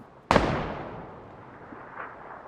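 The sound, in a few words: gunshots in the video game PUBG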